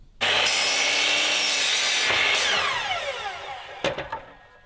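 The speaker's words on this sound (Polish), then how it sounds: "Czy warto kupować piły z tak dużą tarczą?" A power saw with a large 300 mm blade cuts through wood in one loud, close, sustained pass with a rising whine, briefly easing before a final short burst as the cut finishes.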